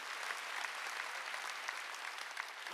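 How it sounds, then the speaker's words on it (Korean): A church congregation at a Sunday service claps together in a dense, even wash of applause, fairly faint and steady from start to finish with no voices on top. "박수."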